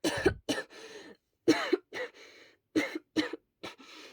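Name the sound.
hard coughing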